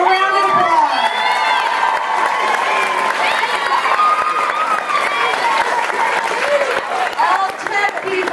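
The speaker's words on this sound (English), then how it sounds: "Give them a round of applause." Loud applause and cheering from a youth musical theatre audience for the backstage crew at a Guys and Dolls Jr. performance, with dense clapping, whoops and excited children's shouts sustained throughout.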